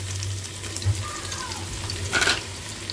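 Chopped onions go into hot oil with toasted garam masala for a zam zam pulao, giving a steady close sizzle and frying hiss with a brief stirring scrape midway.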